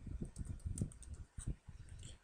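Keys clatter on a computer keyboard in short, irregular bursts of quick taps, fairly close and soft, with brief pauses between runs and no voices.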